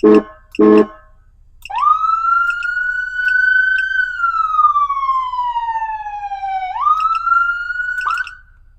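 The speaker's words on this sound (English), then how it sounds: "it is running 3 different tones for their air horn, and it does get loud" Two short blasts open, then a loud wailing siren tone rises, slowly falls and jumps back up, with a harmonic-rich electronic sound, from a 2025 Ford Ranger Raptor EMS vehicle's three-tone air horn setup.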